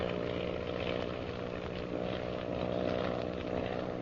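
Propeller airplane in flight in an old-time radio drama, giving a steady, moderately loud droning engine hum with no voices over it.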